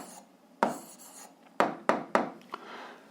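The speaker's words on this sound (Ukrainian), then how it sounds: "Записуємо відповідь, пишемо відповідь." Someone writes an answer by hand, with close pen-on-paper strokes in short separate scratches that come one after another over a quiet room.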